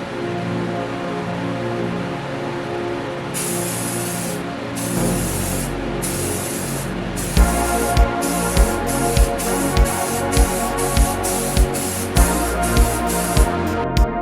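A spray can lays coats of white paint onto a car bumper in a garage, giving a steady loud hiss broken into long bursts, then a run of rhythmic short sprays toward the end.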